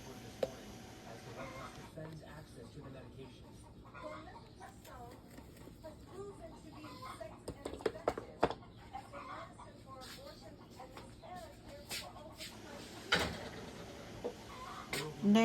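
Backyard chickens cluck faintly in the distance behind soft kitchen sounds, with scattered clicks and knocks rising toward the end.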